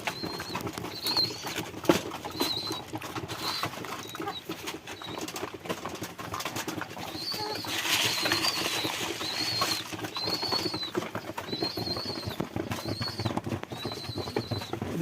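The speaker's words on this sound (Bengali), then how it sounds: "তো আমাদের নিচে কিছু পায়রা আছে" Pet pigeons and doves in a backyard loft are fed during rain, giving repeated short calls and bursts of wing flapping amid steady background noise and shuffling, with no one speaking.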